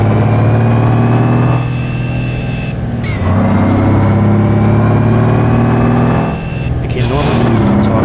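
A loud, steady truck engine in the video game BeamNG.drive, heard from inside the truck, drones with deep harmonic hum, briefly dipping and surging twice as gears shift.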